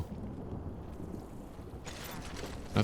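Rain falls steadily in the video game Death Stranding, a dense close hiss with low rumbling thunder underneath and a brighter burst of downpour near the end.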